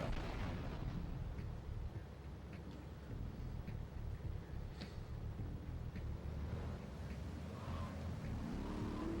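Grand Theft Auto III gameplay on a Sega Dreamcast port, with rumbling explosion and car engine noise, a steady low roar and scattered bursts sustained throughout, no speech.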